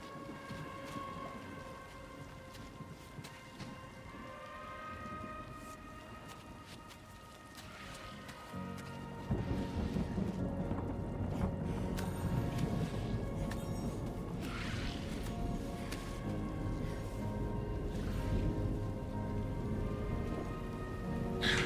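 Timefall rain in Death Stranding 2 patters steadily with a faint rumble under tonal game music, then grows into heavier, louder rainfall partway through.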